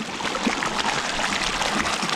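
Creek water runs over rocks at the Holcomb Creek off-road crossing, a steady close babble and trickle with small splashy bursts and no speech.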